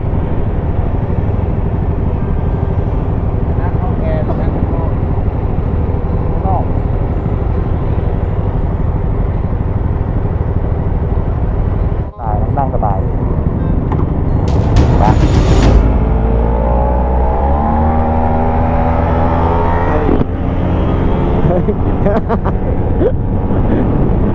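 A Yamaha MT-07 and a Yamaha TMAX 530 race, with loud engine drone and wind roar throughout and a rising revving pitch as they accelerate in the second half.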